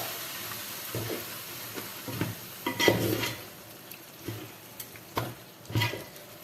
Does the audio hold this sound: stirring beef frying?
yes